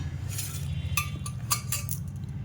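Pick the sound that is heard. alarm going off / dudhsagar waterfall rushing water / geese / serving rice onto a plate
serving rice onto a plate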